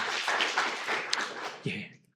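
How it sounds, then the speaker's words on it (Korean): A Korean church congregation claps for the ushers: a continuous wash of hand-clapping from many people that lasts about two seconds, then quickly fades out. "오늘 안내하신 분들 우리 좀 박수 좀 쳐드릴까요?"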